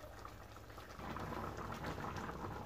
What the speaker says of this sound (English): I've got it to a rolling boil.